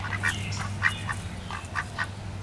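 A white duck, a little beaten up after a fight, quacks in a garden with a steady run of nasal quacks at close range over a low background hum.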